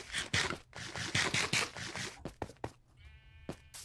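Sheep bleat in the video game Minecraft, Windows 10 Pocket Edition, with several short repeated cries close and clear, along with scraping footstep-like sounds, and no talking.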